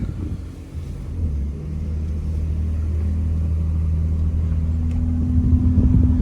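A 2020 Ford F-150 2.7 EcoBoost pickup with an AWE 0FG exhaust rumbles low and steady as it pulls out of a neighborhood, the deep engine drone building slightly with no voices.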